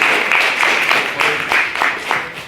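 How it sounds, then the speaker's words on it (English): Applause from a debate audience comes through as fairly loud, close clapping with a loose rhythmic pulse, as if a few people clap together in time, swelling slightly and easing toward the end. "a round of applause for"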